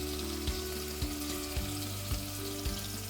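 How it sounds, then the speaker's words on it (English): Bear meat sears in a preheated cast iron pot over medium-high heat, giving a steady loud sizzle and frying crackle with soft regular thumps roughly every half second as pieces go in or shift; no voices. "I'm going to just gently lay these beautiful pieces of bear meat into the pan"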